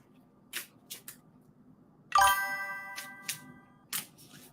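Tarot cards are shuffled and laid down on a table, with short riffling bursts and a bright ringing chime in the middle. The sounds are close and intermittent, with no talking.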